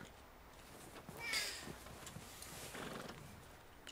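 An Arabian horse in the video game Red Dead Redemption 2, unsaddled after hard work. It gives a quiet snort or whinny burst with soft hoof shuffles at low volume.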